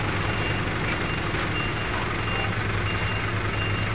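A truck at a construction supplies wholesale yard in Cavite backs up, its reversing alarm beeping steadily over a continuous engine drone and busy street noise.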